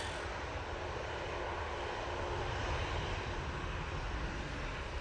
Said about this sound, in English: Jet2, 737, operated by ET Fairways.